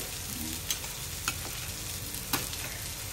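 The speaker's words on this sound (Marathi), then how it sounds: "फायनली आता दीपालीने मासे फ्राय करूसाठी सुरुवात केलेला. एक मासो तव्यावर गेलेलो." Pieces of pomfret fish fry on a tawa with a quiet, constant sizzle, and a few sharp spatula taps and scrapes come through. No one speaks.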